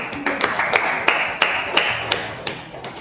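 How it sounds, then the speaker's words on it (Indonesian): An audience claps after a group's classroom presentation on social life, a steady patter of hands punctuated by sharp louder claps roughly every third of a second. "Ya, tepuk tangan."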